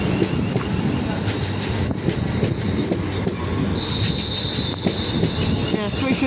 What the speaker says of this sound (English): And now coming in for West Midlands Railway is 350-237